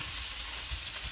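Rice sizzling steadily on a hot Blackstone flat-top griddle, a constant broadband fry hiss at close range with no pauses and no talking.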